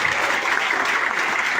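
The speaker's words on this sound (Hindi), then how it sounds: "एक बार जोरदार ताली।" Steady audience applause filling the room at a motivational success-story event, a dense continuous wash of many hands clapping without a break.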